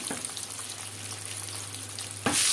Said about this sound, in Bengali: শাহি ডিমের কারি এটা অনেক আয়োজন করে রান্না হচ্ছে